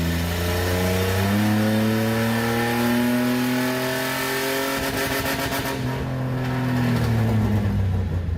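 A truck engine on a dyno revs steadily upward in second gear to 5,400 RPM, a loud droning roar climbing in pitch, then easing off near the end.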